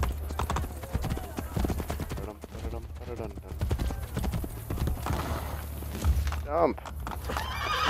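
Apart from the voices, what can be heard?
horse galloping and neighing in video game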